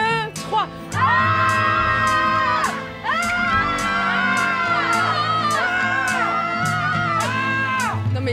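A group of skiers screams together in unison on a count of three, a loud sustained chorus of voices with a brief break partway through, outdoors in the Arctic.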